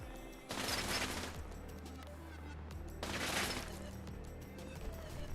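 Video game gunfire near a player's base, two loud bursts of rapid shots a few seconds apart over a continuous low background hum.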